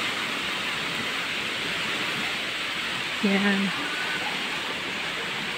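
Spring water seeping and flowing from the ground beside a creek, a steady broadband rush throughout, with a man's brief spoken word partway through.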